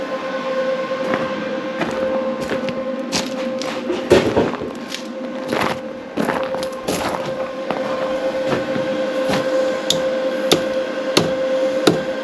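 Hammer blows strike an AC compressor in an irregular series of sharp metallic impacts over a steady mechanical hum, close and fairly loud.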